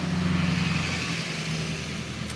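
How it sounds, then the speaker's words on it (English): A loud car passes outside, a steady rumbling engine drone that holds throughout with a low hum underneath and no speech. "These loud cars."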